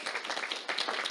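Audience applause at a talk about a security package, a short burst of many hands clapping, fairly loud and steady without voices.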